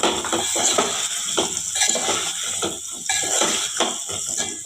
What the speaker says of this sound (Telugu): మిరపకాయలు ఉడికాక ఇలా మునక్కాయలు వేసుకోవాలండి. మీడియం ఫ్లేమ్లో పెట్టి ఉడికించుకోవాలండి ఆయిల్లో.